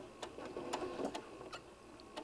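A sewing machine stitches bean bag fabric, running forward then back tacking, a quiet run of rapid mechanical ticks and clicks with brief pauses, close by and faint, no talking.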